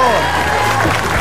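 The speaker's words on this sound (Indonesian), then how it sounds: "tepuk tangan buat Septian" A studio audience at a television comedy show applauds and cheers for a comedian, a loud, busy crowd din with voices mixed in.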